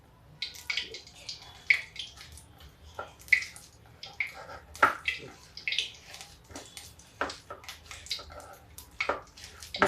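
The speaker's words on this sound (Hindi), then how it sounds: "और इसको देर तक फेंटें, हाथ से फेंटें।" Moong dal batter for pakoras being beaten by hand in a bowl, a continuous irregular series of soft wet slaps and squelches at close range.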